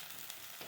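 Onions, garlic, ginger and chillies frying in oil in a pan give a brief, steady hiss of sizzling, faint and even with no other sound.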